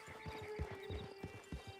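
Horse hooves clip-clopping in the Red Dead Online video game, a steady run of soft, evenly spaced thuds close by, with no talk.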